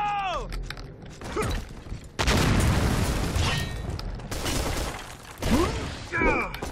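A grenade blast in a first-person shooter game: a loud, roaring burst erupts mid-clip and swells again moments later, amid game noise, mechanical clatter and excited voices.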